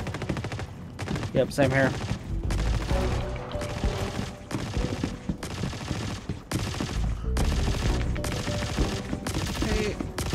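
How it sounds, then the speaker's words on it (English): Gunfire crackles up ahead inside the Star Citizen game world, bursts of shots running steadily under a game soundtrack while players talk over them. "Yeah, I'm hearing shots ahead now."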